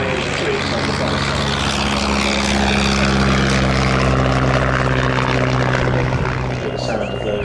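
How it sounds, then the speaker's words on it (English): Vintage de Havilland propeller aircraft flying over a vintage airshow, a loud continuous droning engine roar with a steady tone, close and dominant throughout, with people faintly talking beneath it. "The sound of those Havilland machines in the skies."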